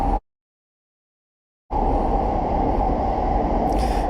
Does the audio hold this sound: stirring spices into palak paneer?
no